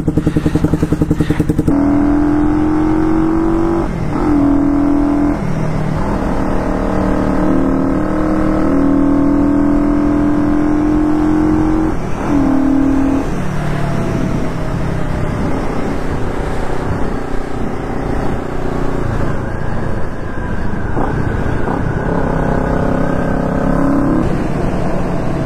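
A Kawasaki 500 street tracker motorcycle runs close by, revving repeatedly with rising and falling engine pitch as it pulls away and rides, loud and continuous throughout.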